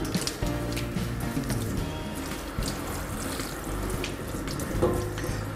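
Water from a shower head streams onto a dog being wetted before a shampoo, a constant splashing hiss broken by small shifts as the spray moves over the coat, close by with no talking.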